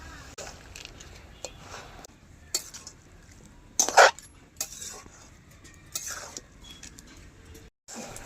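A spatula scrapes and clinks against a pan while crab and boiled cabbage curry is stirred, giving irregular metallic taps and swishes over a soft sizzle, with one louder clatter in the middle.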